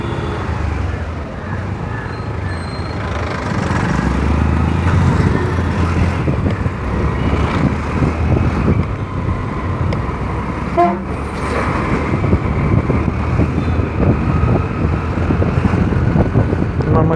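Continuous busy road noise with engines rumbling and a few short horn toots, steady and fairly loud throughout.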